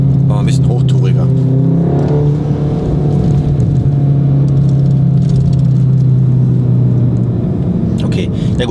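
A VW Golf 7 R engine revving as the car drives off, a loud low droning hum that rises and shifts in pitch, with people talking over it.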